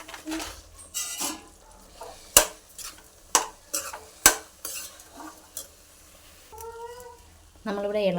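Semolina upma stirred in a pan, a spoon scraping and knocking the sides in sharp intermittent strikes over a faint sizzle, close by, with voices talking through and after the stirring.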